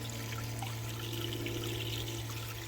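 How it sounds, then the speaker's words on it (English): A solar-powered hydroponic garden pump runs outdoors in summer, spraying water into a growing panel, heard as a steady continuous trickle and hiss over a constant low motor hum, with no talking. "The water just gets pumped straight in, so it's running now."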